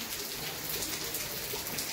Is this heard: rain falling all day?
yes